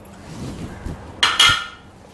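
Chopped radish drops into a cooking pot for sambar, giving a brief clink of metal followed by two quick knocking, rustling thuds close by, with no talking.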